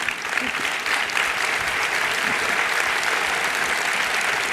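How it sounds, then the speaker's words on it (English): An audience at an organization's update meeting gives the board of directors a round of applause, a steady wash of many hands clapping at moderate loudness, sustained and even throughout. "So please join with me giving them a round of applause."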